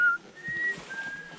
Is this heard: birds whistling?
yes